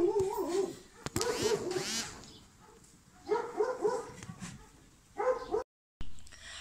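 Farm dog barking in repeated short bursts with whimpering and yelping between, fairly close and loud, in a rural mountain setting where sheep and lambs are grazed.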